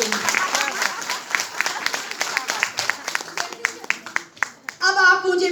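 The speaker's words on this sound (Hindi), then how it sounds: "तो मेरे लिए एक बार तालियां हो जाए" Scattered audience clapping at a business meeting, uneven claps that grow into brief applause, followed by a voice speaking close by at the end.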